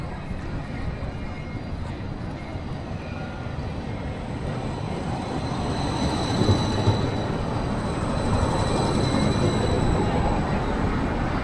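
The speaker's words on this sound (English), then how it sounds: "these are Edinburgh trams, the best way, in my view, of getting around Edinburgh" An Edinburgh tram passes through the city centre, a broad, steady rolling rumble that swells slightly as it nears, with faint high metallic whine over the street noise.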